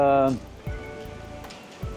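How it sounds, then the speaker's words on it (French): Wind and rain in a forest: steady rain patter and rough wind noise, with a few low gusty thumps buffeting the microphone, following a brief voice at the start. "il commence à y avoir du vent et la pluie"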